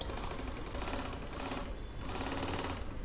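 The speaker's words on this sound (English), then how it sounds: "So we'll just help the leather a little and stitch it." Sewing machine stitching a cloth and faux leather tote bag, a close rapid mechanical whir that runs in short bursts with brief pauses between.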